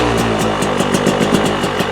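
A 2026 Beta 300 RR X-Pro two-stroke dirt bike engine runs steadily close by, its throttle blipped slightly higher to raise the revs, with a rapid regular firing pulse throughout and no talking.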